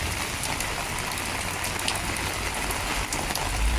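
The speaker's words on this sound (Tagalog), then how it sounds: "Ah, napakalakas ng ulan." Heavy rain pours down steadily outdoors, a dense, even hiss of drops pattering on surfaces with no pauses, close and continuous.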